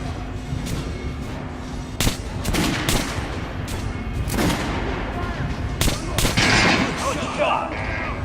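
Repeated gunshots fired at a training dummy in Metro: Last Light Redux on PC, loud sharp bursts at irregular intervals with some rapid volleys, under steady game background noise.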